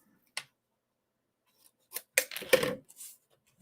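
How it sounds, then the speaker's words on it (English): Scissors snipping through card stock for a slider card: a single crisp snip, then a short cluster of close cutting crunches, quiet and alone. "So I'm just going to snip this off."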